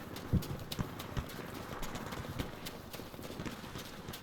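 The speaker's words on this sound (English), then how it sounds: "I thought I heard footsteps." Footsteps sound in the Battlefield V video game, a run of soft irregular thuds with a few louder close steps, set against low background game noise.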